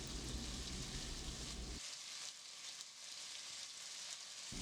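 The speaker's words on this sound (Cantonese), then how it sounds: "就可以放啲豬肉卷入去慢慢煎㗎啦" Pork rolls wrapped around asparagus pan-frying in a small amount of hot oil over medium heat: a steady, fine crackling sizzle, close but faint, with a lower, rougher hiss early on that drops away partway through.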